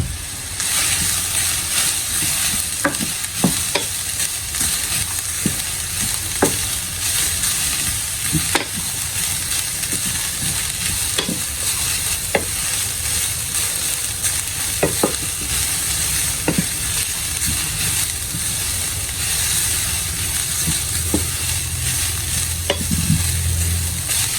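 Carrots for a samosa and spring-roll filling fry in a pan with a continuous hiss, while a spatula scrapes and taps against the metal at irregular intervals throughout.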